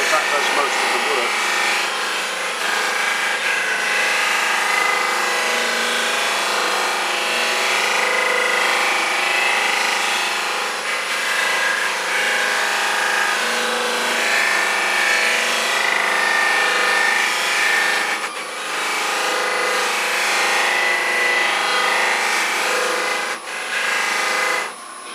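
A chestnut buffing wheel polishes a woodturned bowl on a lathe, making a steady, loud whirring rub that barely changes for the whole stretch. A person talks now and then over it.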